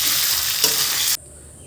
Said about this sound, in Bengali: আমার পটল ভাজা হয়ে গেছে, পটল এখন আমি লাভিয়ে নেব।